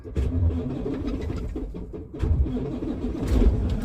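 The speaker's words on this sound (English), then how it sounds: "So I am going to fire it up for the first time in 126 days" A semi truck's diesel engine cranks and fires up after sitting 126 days at a shop, a loud, rough mid-range rumble that steadies, then swells again as it revs near the end.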